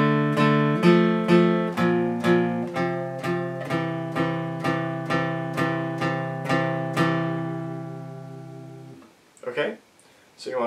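Electric or acoustic guitar plays the closing phrase of a song's chorus: a steady run of about a dozen ringing plucked notes and dyads at an even pace, then a short pause with brief soft noises at the end.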